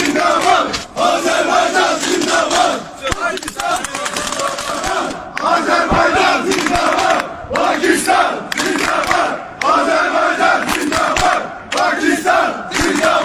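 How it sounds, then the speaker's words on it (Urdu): Military officers chanting Pakistan Zindabad in unison, loud rhythmic crowd shouts in repeated bursts with brief pauses between them. "اس میٹنگ میں مختلف ممالک کے فوجی افسران بھی پاکستان زندہ باد کے نعرے لگا کر"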